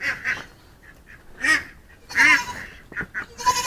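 Farmyard mother duck quacking in a few loud, close bursts, with short pauses between calls, alone and without talk.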